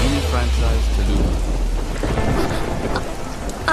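Heavy rain pouring down with thunder, a deep rolling rumble under a dense steady hiss of rain on surfaces, loud and close throughout.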